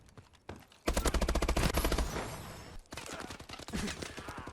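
Loud, close automatic gunfire in Call of Duty: Advanced Warfare multiplayer, a long rapid burst followed by a pause and further bursts of shots.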